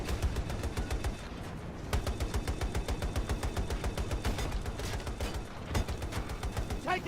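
Automatic gunfire in Battlefield 2042 rattles in long rapid bursts, loud and close, with brief pauses between volleys and a sharp crack partway through.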